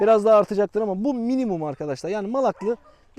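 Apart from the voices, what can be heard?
No distinct noise like a dog, phone or traffic.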